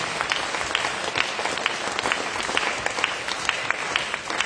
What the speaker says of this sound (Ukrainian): Оплески Анастасії!